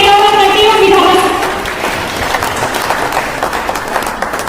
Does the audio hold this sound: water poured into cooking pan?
no